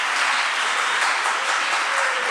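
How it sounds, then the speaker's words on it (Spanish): Audience applause fills a university seminar room, a dense steady clapping at moderate loudness that holds evenly from start to finish with no voices over it. "Los aplausos son para Jessica, ¿no?"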